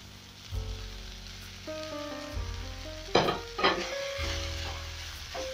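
Capsicum frying in a pan of matumbo wet fry, a steady sizzle with a louder burst of spattering as the pieces go in, then stirring over a low hum.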